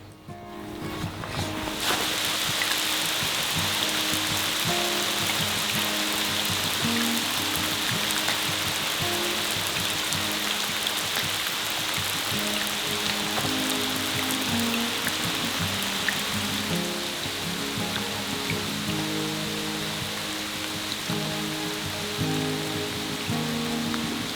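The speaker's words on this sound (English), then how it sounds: "hear the rain falling through the trees" Steady rain falls through trees in Guadalupe Mountains National Park, a dense, even patter that holds constant from start to finish with no talking.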